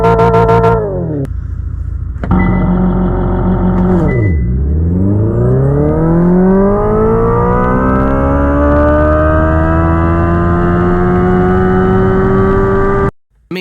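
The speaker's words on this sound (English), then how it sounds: "an engine simulation feature that revs and sounds like a gas engine as you accelerate" An electric car's simulated gas-engine sound revs up and climbs steadily in pitch as the car accelerates, loud and continuous, with no one talking.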